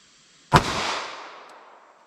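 A single sharp gunshot from a Ruger LCP pistol firing House of Payne .380 ACP, loud and close, with a broad reverberant tail decaying over about a second and a half outdoors.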